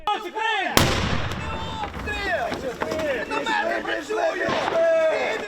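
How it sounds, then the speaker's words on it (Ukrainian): Sharp explosive bangs and crackling shots ring out amid shouting voices during a military training exercise for recruits, with a loud blast near the start and scattered reports throughout. "постійні вибухи та постріли створюють психологічний тиск, щоби дезорієнтувати новобранців"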